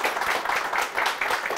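Audience applause welcoming an IVF specialist onto a news studio talk show, dense steady clapping that is moderately loud and close, with no talking.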